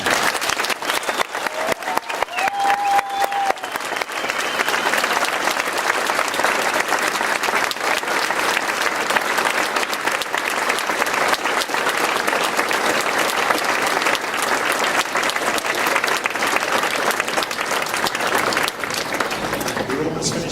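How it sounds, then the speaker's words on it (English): Rousing, sustained applause from a large crowd of students and guests at a swimming facility dedication, dense clapping continuing for about twenty seconds with voices mixed in. "let's give Flora an absolutely rousing applause."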